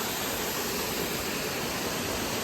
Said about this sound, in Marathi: हा बघा धबधब्याचा नजारा